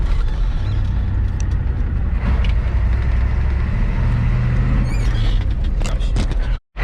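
A 1987 Ford F350 truck with a 6.9 IDI diesel accelerates hard in third gear, its loud, steady rumble and clatter filling the cab nearly nonstop before cutting off abruptly at the very end.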